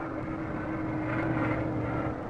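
WWII military aircraft over Okinawa, land- and carrier-based planes on bombing runs, give a steady loud engine drone that swells slightly midway, with no talk.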